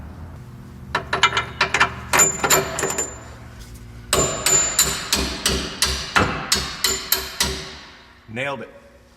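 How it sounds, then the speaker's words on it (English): Repeated sharp metallic hammer strikes driving a bolt through the suspension of a 2007 Subaru Outback, first in scattered bursts, then a steady run of about a dozen evenly spaced blows, close and loud, ending with a brief ringing scrape. "then I'll start hammering the bolt through"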